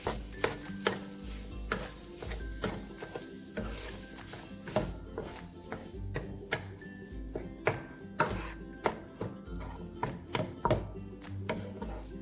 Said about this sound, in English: I'm just going to kind of break it up good and stir it all in, mix it with the onions